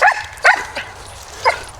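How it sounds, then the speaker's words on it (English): Several dogs bark and yip excitedly outdoors while out on a walk, four sharp bursts spread across the moment with quieter gaps between, fairly close and loud. "Dogs are going bonkers."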